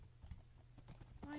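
Horse hooves clip-clop in a video game, a handful of quick, faint hoofbeats over a low background while a voice talks.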